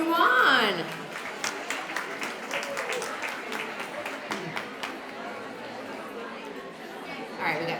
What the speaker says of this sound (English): you guys can clap for Dalinda.